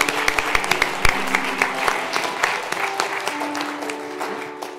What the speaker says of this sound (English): let's give a round of applause to all